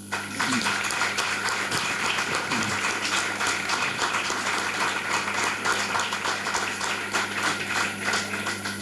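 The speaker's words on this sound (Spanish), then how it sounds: "por lo que pido un aplauso para Marisa" Audience applause at a bullfighting event in Hellín, sustained dense clapping from a crowd lasting several seconds, steady and fairly loud.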